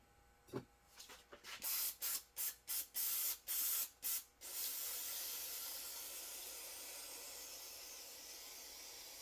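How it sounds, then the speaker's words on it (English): A series of short aerosol bursts of brake cleaner into a 1965 Chevelle's two-jet carburetor, about eight in quick rhythm, followed by one long continuous hiss of spray that slowly fades. "I'm just going to spray this thing out with some brake clean."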